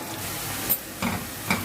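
Onions frying in a pan for matar pulao, turning golden, give a steady close sizzle broken by a few brief stirring scrapes, with no talking.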